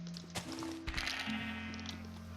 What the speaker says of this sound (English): Hi there, sheep.